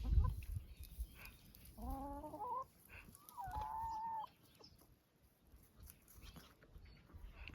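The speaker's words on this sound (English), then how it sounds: "And the hens might have the same idea, because there's bugs to eat." Free-ranging hens clucking outdoors, a few drawn-out clucks and calls from nearby birds between quieter stretches of ambient background, with no talk.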